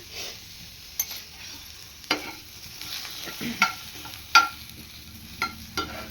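Ginger and garlic dry roasted in a pan, with a spatula scraping and tapping at irregular intervals over a quiet, low background and no voices.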